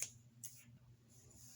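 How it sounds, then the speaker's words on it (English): Soft snipping and handling clicks of scissors while cutting yarn for a loom-knit hat, quiet and close, with brief sharp ticks over a low background hum. "here's my scissors."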